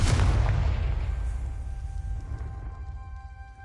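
A Confringo explosive spell in Hogwarts Legacy detonates with a single loud, close boom that decays into a long rumbling tail with a faint ringing tone fading out.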